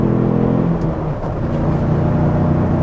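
A 2022 Ford Bronco with a turbocharged four-cylinder engine of about 300 horsepower pulls hard under acceleration, a loud, close, steady engine rumble and whir from inside the cabin.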